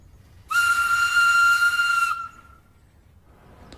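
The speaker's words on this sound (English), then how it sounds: "until he heard a familiar whistle" A steam engine's whistle in an animated film gives a single clear, bright blast of about a second and a half, then fades into quiet background hiss.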